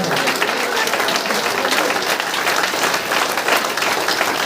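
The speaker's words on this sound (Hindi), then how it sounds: "चलिए तालियां बजनी चाहिए और तालियों में दम होनी चाहिए" An audience at a village meeting breaks into loud, sustained applause, many hands clapping in a dense, continuous roar close by for several seconds.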